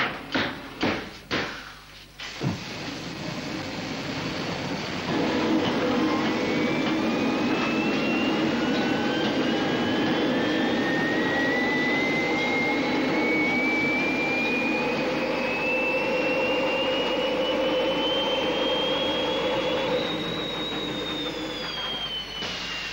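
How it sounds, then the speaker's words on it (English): A rocket engine firing: a few sharp bursts, then a loud, steady, roaring thrust that stays close and continuous, with a whine slowly rising in pitch. "that rocket has enough thrust to double our speed in the straightaway"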